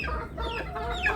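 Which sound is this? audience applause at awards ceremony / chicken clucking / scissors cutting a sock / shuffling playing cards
chicken clucking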